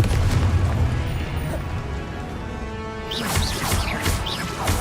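A Confringo blasting spell in Hogwarts Legacy on PS5 goes off as a booming explosion, followed by crackling bursts and sparkling magic effects, with voices shouting spell names over the fight.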